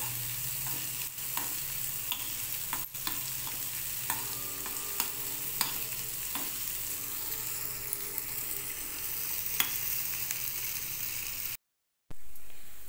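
Onions frying in a kadai, a steady sizzle with scattered spatula clicks and scrapes at irregular intervals, fairly close, ending in a brief silence and a short burst of sound.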